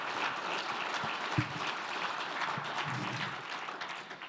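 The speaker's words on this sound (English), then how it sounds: "a round of applause for our panelists" An energy summit audience gives its panelists a round of applause, a dense, even wash of clapping at moderate loudness, with no voices over it.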